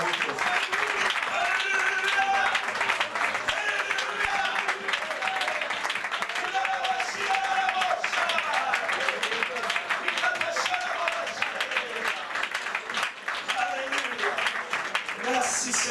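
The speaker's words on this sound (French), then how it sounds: "Applaudissons le Seigneur ensemble." A church conference congregation applauds together, sustained dense clapping lasting throughout with voices and cheering mixed in, fairly distant and reverberant.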